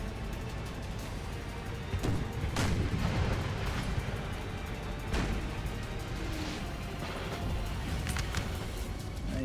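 Artillery in a Napoleonic-era battle in Napoleon Total War: deep booming cannon shots at irregular intervals over a constant rumble of distant musketry and battle noise.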